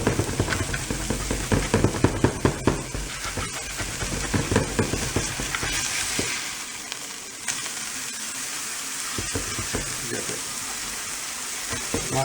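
Burgers sizzling in a pan, a dense, loud crackle of frying fat broken by stirring and scraping in the first half, then a lighter, steadier sizzle, close up with no voices.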